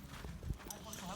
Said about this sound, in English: Some donkeys. Wow, a whole bunch of them.